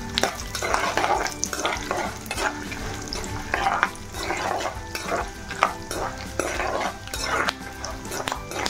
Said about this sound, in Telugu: ఇందులోనే ఎండుమిర్చి ఒక 4-5 ఎండుమిర్చి వేస్తున్నాను. ఇవి బాగా వేగనివ్వాలి.